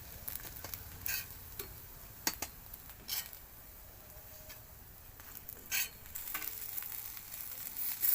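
Chira tikia patties of flattened rice frying crisp in oil, a faint bubbling sizzle under scattered sharp clicks and taps from handling.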